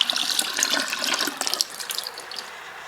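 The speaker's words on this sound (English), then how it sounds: "Then I am going to rinse." Water runs from a sink tap as hands are rinsed during a handwashing routine, a close, splashy, irregular rush that tapers off toward the end, with no talking.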